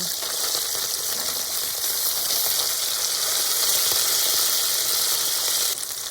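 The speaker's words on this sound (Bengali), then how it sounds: "আমি উল্টে দেবো প্রত্যেকটা মাছকে অপর পিস ভাজা করার জন্য।" Parshe fish fry in oil in a kadai with a loud, dense, continuous sizzle that stays steady throughout, with no voices.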